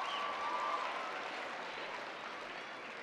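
Sustained crowd applause fills a convention hall during the welcome of an entertainment session at the ICNA-MAS Convention, a dense, steady wash of clapping that fades slightly toward the end.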